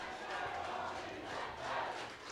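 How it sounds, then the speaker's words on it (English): Spectators roar and shout steadily from the stands at a B Grade rugby league grand final between Fingal Bay and West Wallsend, a broad, sustained crowd din with a few swells, heard at a distance. "You can hear the crowd here."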